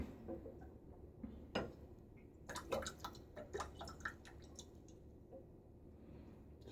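A shaving brush with a dense, water-holding knot is shaken out into a cup, giving a close cluster of wet drips, flicks and splashes, busiest in the middle and trailing off into soft scattered drops.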